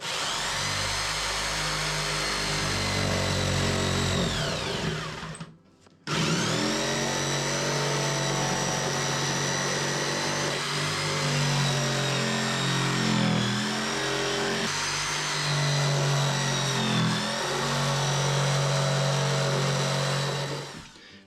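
A power tool makes a plunge cut in wall sheathing near a welding outlet, a loud sustained motor whine with a brief stop and restart, then steady cutting for a long stretch, close and alone.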